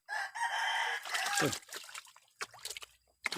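A rooster crows loudly up close, followed by clucking, scattered rustling and a few sharp knocks.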